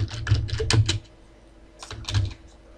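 Quick bursts of key presses on a computer keyboard, a clustered run of clicks, a pause, then a shorter flurry, close and fairly loud with no speech.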